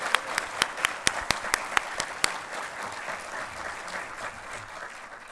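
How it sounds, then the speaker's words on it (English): A graduation ceremony audience applauds. A handful of sharp, close individual claps rings out at first over a dense, continuous bed of crowd clapping that slowly fades toward the end. "another big round of applause"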